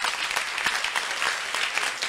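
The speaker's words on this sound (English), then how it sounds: "please, a round of applause for them" Audience applause in a school auditorium after a high school debate contest, a steady dense wash of clapping from a large crowd with no talk.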